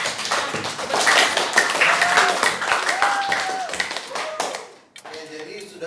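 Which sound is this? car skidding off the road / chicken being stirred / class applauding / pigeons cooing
class applauding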